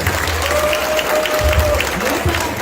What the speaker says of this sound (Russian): От всей души бурными аплодисментами поздравим наших дорогих